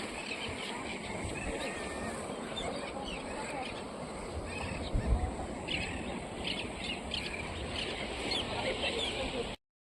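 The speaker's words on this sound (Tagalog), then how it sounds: "Daming ibon talaga." Many seabirds crowd a large rock out at sea, their calls and chirps overlapping in a dense, continuous chatter over steady wind and water noise, moderately near and fairly faint overall.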